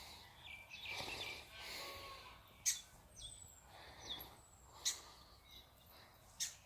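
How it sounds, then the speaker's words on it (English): A garden bird calls in the early morning with short sharp chirps and thin whistles, several brief bursts spread unevenly over quiet outdoor background. "Sounds like a bird in trouble."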